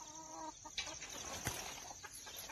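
A free-range village hen with about 25 small chicks clucks in short bursts, close by, with thin chick peeps, a soft wing flap and light rustling around her.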